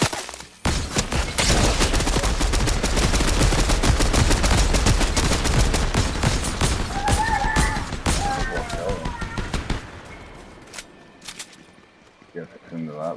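Fortnite squad fight against a boss: rapid automatic gunfire rattles in dense bursts for about nine seconds, then thins to scattered shots and quieter movement, with players talking over it.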